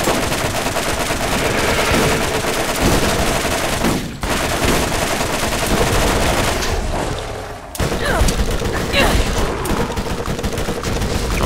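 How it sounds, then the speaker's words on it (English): Dense, nearly continuous automatic gunfire from machine guns in the Borderlands 3 co-op shooter, loud and sustained with two brief drops, then the fire resumes at full intensity. "This is why machine guns are better."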